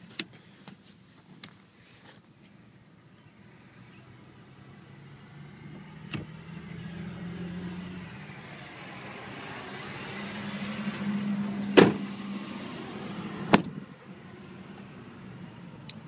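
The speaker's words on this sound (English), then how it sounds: "it's the extended cab with power windows in the rear as well" Power windows in a 2012 Ford F150 extended cab, a faint electric motor whir rising and falling over several seconds inside the quiet truck, with a few sharp clunks as the glass stops.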